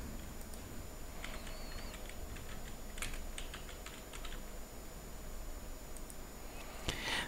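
Someone types a folder name on a computer keyboard, producing a quiet run of soft, quick key clicks in irregular bursts over a low steady hiss.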